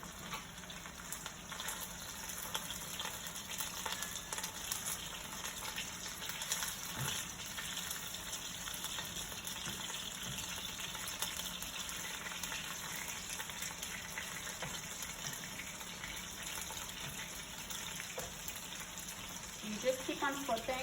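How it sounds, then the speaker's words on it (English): Chicken pieces frying and sizzling in a pan on a stove for bourbon chicken, a steady close hiss with faint clatter and occasional quiet talk. "right now I gotta flip the chicken because it is sizzling"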